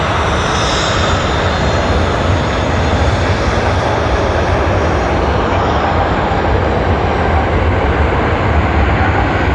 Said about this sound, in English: The Cargo 747 of Cathay Pacific.